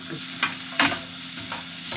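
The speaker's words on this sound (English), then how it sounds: "We've just been simmering that." Sauce with herbs simmering in a pan for pasta, giving a soft, steady bubbling sizzle with a few brief stirring scrapes; it plays on its own at close range and at moderate volume.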